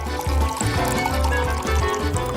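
Sprite pours into a glass for a layered drink, a continuous close fizzing, bubbling stream with a rhythmic gulping pulse, loud and steady for a couple of seconds with no talk over it.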